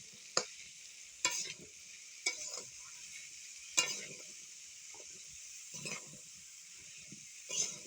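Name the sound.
stirring food in a wok with spatula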